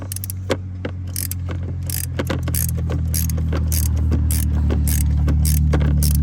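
A bolt on the thermostat housing of a GMC Savana van is tightened with a ratchet, a run of quick clicking bursts over a loud steady engine-like hum close by.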